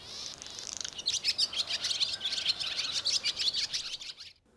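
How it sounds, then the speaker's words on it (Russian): A male barn swallow sings a bright twittering song inside a barn near its nest, a rapid run of chirps and trills that carries on close and clear for about four seconds, then stops abruptly. "Самец весело, с новыми силами щебетал любовную серенаду."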